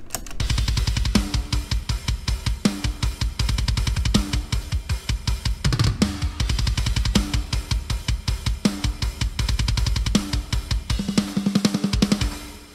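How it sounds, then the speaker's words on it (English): A mixed drum track with two kick drum samples layered together plays a steady, punchy beat. Deep, loud kicks and snare hits repeat in a driving pattern with dense cymbal wash for about thirteen seconds, and no one talks. "So the drums together sound like this."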